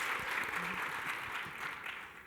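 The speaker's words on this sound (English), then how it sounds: "Let's give them all a round of applause." Audience applause at a workplace panel event on equal pay, a steady wash of clapping held at even loudness from start to finish with a faint voice murmuring underneath.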